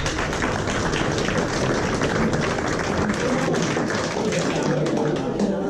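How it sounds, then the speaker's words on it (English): A snooker club audience at a trick-shot exhibition applauds a volunteer coming down, a continuous, fairly quiet patter of many hands clapping throughout, with a roomy, slightly distant feel. "Come on down, give a round of applause"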